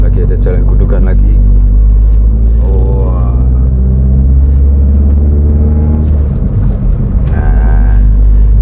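A 1996 Honda Civic Ferio VTEC rolls over a road bump, its engine drone and low cabin rumble loud and close, with a brief thump and jolt, while someone talks over it.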